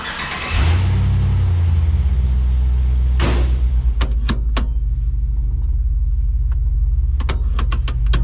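An LS-swapped Chevrolet S-10 truck starts up and settles into a loud, deep rumbling idle close by, with a brief rev, then several sharp clicks and clunks over the steady engine drone as it gets ready for a test drive.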